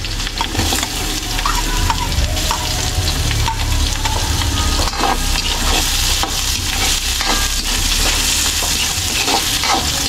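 Onions sizzle and fry steadily in a pan, a dense continuous crackle with occasional stirring scrapes, close and loud throughout with no talking.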